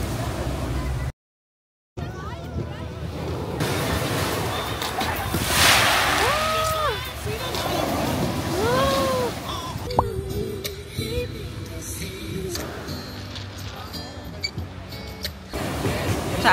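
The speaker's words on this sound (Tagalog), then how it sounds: "Super lakas ng alon." Strong ocean waves surge and wash on a Turkish beach with a steady, close roar and wind buffeting the microphone. Voices and exclamations are heard over the surf.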